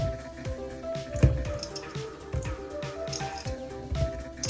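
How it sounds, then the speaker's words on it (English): Wet, sticky bread dough squelched and pressed by hand during kneading, giving soft irregular squishy and dripping smacks up close at a moderate level, with no talking. "So here I am, making dough. It's all a bit squelchy and squelchy."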